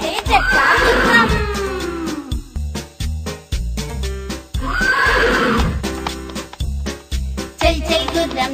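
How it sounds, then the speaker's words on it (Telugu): A horse whinnies loudly twice in a children's rhyme, each neigh a long shaky rising-and-falling cry, set between rhythmic clip-clop beats and jingling music. "చల్ చల్ గుర్రం చలాకి గుర్రం"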